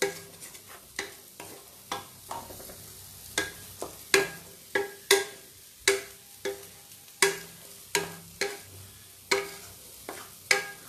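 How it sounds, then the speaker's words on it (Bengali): Chicken dal fry sizzles in a pan over high flame while a spatula scrapes and stirs it in a steady rhythm of close, crisp strokes, with a constant frying hiss underneath and no voices. "হাই ফ্লেমে এটাকে আমি নাড়ব।"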